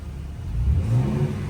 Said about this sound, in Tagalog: pakinggan natin yung tunog ng makina